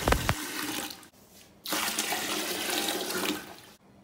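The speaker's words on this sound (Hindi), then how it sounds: "उसके बाद हम इसमें डालेंगे पानी, खूब सारा पानी हमें डालना है इसके अंदर।" A large amount of water pours into a container of stored wheat, a loud rushing splash that stops briefly and then resumes, steady and close with no talking.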